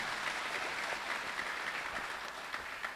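A church congregation claps together during a Catholic Mass on a bishop's pastoral visit, a steady, sustained wash of applause from a large room, fairly soft and with no talking.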